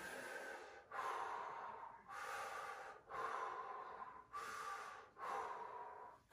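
Slow, deep breaths during a slow neck-turning stretch, about six long airy inhales and exhales in steady alternation, close and fairly soft with brief pauses between them.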